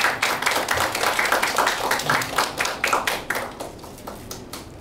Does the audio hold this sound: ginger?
no